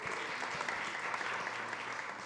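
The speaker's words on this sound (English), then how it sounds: "Round of applause." Summit audience applauds an introduced speaker with brief, even clapping from a crowd, heard at a moderate distance.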